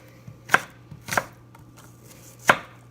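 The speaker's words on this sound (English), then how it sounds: "Dicing it all up." Knife dicing one small apple on a cutting board gives three crisp, separate chops spaced about half a second to a second apart, close and clear with no talking.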